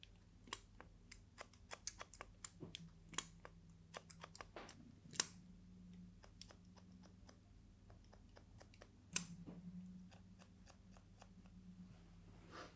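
Scissors snip through a man's overlong front hair during a barber-style haircut, giving a quick series of sharp, close clicks with brief pauses, and faint handling noise underneath.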